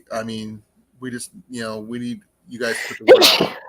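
A sneeze bursts out near the end, loud and close after steady talk, with people speaking just before it.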